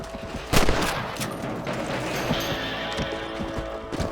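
Rifle gunshots from the video game Red Dead Redemption as a character shoots rabbits, a sharp loud crack near the start followed by fainter shots and hoofbeat-like clatter at moderate level.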